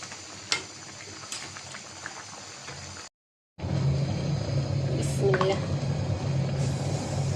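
Fish stirred in a frying pan with onion and green chili on a stove: a continuous close sizzle with occasional scraping clicks, briefly cut off, then a louder, denser frying hiss.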